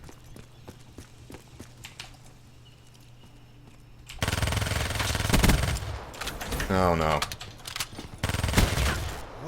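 Quiet footsteps and a faint hum give way to loud bursts of rapid automatic gunfire in Call of Duty: Black Ops 3, with a person briefly exclaiming partway through.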